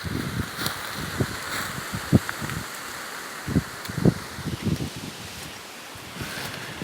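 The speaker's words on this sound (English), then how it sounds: "And there goes that wind again." Gusting wind sweeps across an open, level vacant lot in Horseshoe Bend, Arkansas, buffeting the microphone with uneven rustling bursts, steady and fairly close, with no voices.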